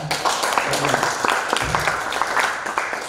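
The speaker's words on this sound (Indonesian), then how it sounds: "Tepuk tangan untuk teman kita ya" An audience applauds a classmate in a seminar room, dense scattered clapping with some voices mixed in, steady and moderately loud through the short stretch.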